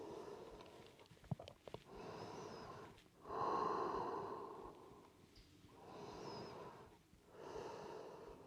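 Slow, audible breaths during yoga practice, close and quiet, with about four long rising and falling inhales and exhales in a steady rhythm after a few small clicks.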